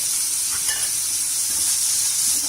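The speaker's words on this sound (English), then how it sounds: "So we'll stir this till the onions become translucent." Onions fry in a pan with a steady, close sizzle as a spatula stirs them, a couple of faint scrapes under the continuous hiss.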